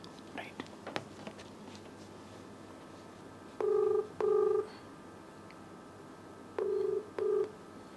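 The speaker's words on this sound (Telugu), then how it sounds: "సో డైల్ హర్ నంబర్ అండి" Several telephone keypad tones beep in short pairs while a number is dialed, loud and clear over faint background clicks and rustle.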